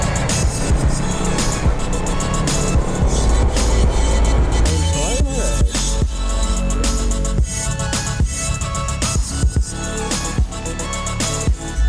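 KTM motorcycles lapping the Madras Motor Race Track in Chennai during a track day, loud engine roar and passing bikes rising and falling continuously, with a voice talking over the noise.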